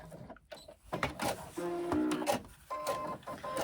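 A sewing machine stitches through backpack fabric up close, giving a steady mechanical whir broken into short bursts and pauses, with no talking.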